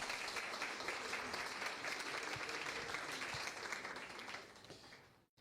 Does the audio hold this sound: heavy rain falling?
no